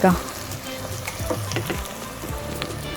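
Onions sizzling in oil in a pan for veg biryani, a steady crackling fry with occasional stirring scrapes, while someone talks over it.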